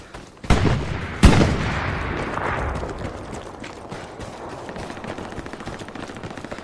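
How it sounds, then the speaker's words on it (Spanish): Two sharp gunshot blasts in the video game Hell Let Loose ring out close together, each trailing into a long rumbling echo that slowly fades over steady background noise. "Que suenan tiros aquí"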